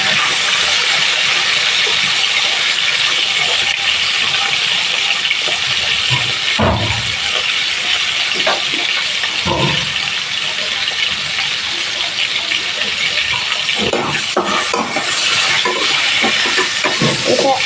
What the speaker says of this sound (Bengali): প্রথমে আমি আলুগুলো একটু ভেজে নেব